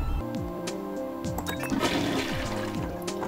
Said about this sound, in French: un bruit de chasse d'eau normal